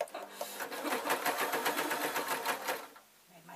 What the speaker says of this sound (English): what I'm doing is I'm stitching 4 inches